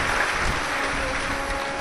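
Crowd at a live Shiv Mahapuran katha gathering clapping for the host families, a continuous, even roar of many hands that stays level throughout without a break.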